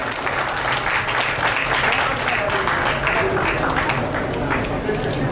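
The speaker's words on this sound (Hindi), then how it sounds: "जोरदार तालियां बजाइए" Audience applause at a Akhil Bharatiya Marwari Yuva Manch gathering, a sustained, even wash of many hands clapping at moderate loudness, with faint voices mixed underneath.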